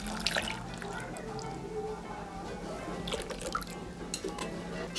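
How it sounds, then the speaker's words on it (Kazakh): Warm milk poured into a bowl of bun dough mixture with sugar and salt, a steady trickling and dripping liquid sound close by, continuous for several seconds with faint background noise. "Енді оның үстіне жылы сүтті құямыз."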